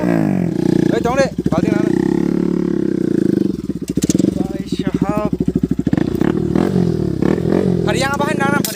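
A motorcycle fitted with a cheap aftermarket exhaust revs loudly and close, giving repeated throaty roars with deep rumbling low end and rising bursts. Excited voices shout over it.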